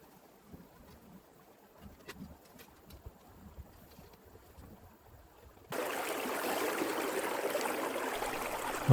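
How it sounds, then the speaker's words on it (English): Crystal-clear Grassy Creek, a small stream beside a campsite in Washpool National Park, flows steadily. A faint trickle gives way to a louder, even rush of water midway through, with no voices. "My camp was right next to Grassy Creek. What a beautiful, crystal clear little stream it was."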